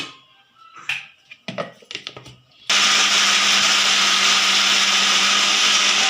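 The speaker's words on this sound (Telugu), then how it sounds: "అలాగే కొంచెం వాటర్ వేసుకొని మిక్సీ అయితే పట్టేస్తాను ఇప్పుడు" A few clicks and handling noises, then a mixer grinder blending red chutney with a little water whirs on loudly and runs at a steady high-pitched roar without pause.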